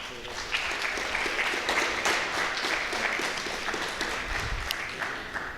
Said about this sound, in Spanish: a quien le damos un cordial aplauso para recibirlo en esta tarde